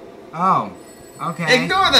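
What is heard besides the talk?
phone ringing in The Sims 3 video game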